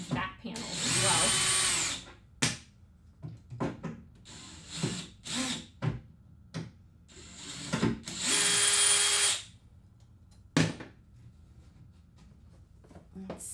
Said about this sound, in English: I just realized I have more screws to remove.